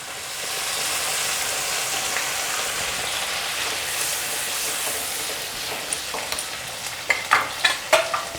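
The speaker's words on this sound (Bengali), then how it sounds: "পালং শাকের পেস্ট বেটে রেখেছিলাম সেই পালং শাকের পেস্টটাকে দিয়ে দিচ্ছি" Spinach paste is tipped into tomato paste frying in a pan for palak paneer: a constant soft sizzle, then a quick run of sharp spoon clacks against the pan near the end, with no talking.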